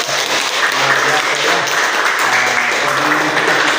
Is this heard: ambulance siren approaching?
no